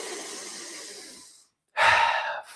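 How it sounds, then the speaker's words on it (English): Deep, continuous breathing during a breathwork exercise: a long, airy breath fading out, a brief pause, then a strong, close rush of breath out through the mouth. "Exhale through your mouth. This is one continuous breathing motion."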